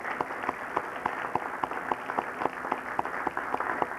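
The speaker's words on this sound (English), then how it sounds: "let's give another round of applause" Audience applause fills the room after a talk, a steady dense patter of many hands clapping, moderately loud and sustained throughout with no voices over it.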